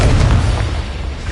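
A Confringo fire spell bursts in the Hogwarts Legacy video game, a loud, dense booming blast that fills the whole moment and rumbles out.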